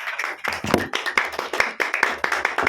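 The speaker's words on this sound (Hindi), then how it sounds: "इसके लिए एक बार जोरदार ताली हो जाना चाहिए" A small crowd claps together, a brisk patter of many hands close by, with a few louder slaps standing out in the steady rhythm.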